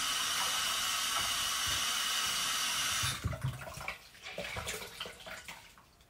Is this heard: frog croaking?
no